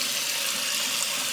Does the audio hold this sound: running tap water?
yes